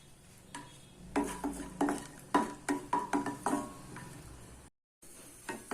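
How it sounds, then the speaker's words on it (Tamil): Raisins and cashews frying in ghee in a pan, with a series of clinking, scraping ladle strokes over a soft sizzle, then a brief silence before the stirring resumes. "இப்போ நான் திராட்சை போட்டு வறுத்துறேன்."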